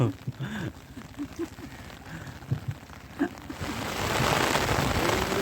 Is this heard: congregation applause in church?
no